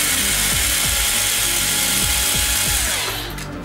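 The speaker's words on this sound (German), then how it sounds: "Dazu werden wir die ganzen Schrauben hier mal lösen oben drauf" A power screwdriver loosens screws on the upper deck of a Carson FY10 RC car, whirring loud and close in repeated short bursts with ratcheting clicks, then winding down at the end.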